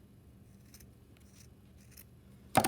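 Scissors trim the ends of a yarn tassel, with faint quiet snips and handling followed by one sharp, loud close cut at the end; no talk.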